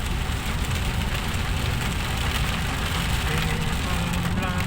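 Heavy storm rain pours down in a steady, dense hiss, loud and unbroken, with a faint low rumble of a vehicle underneath.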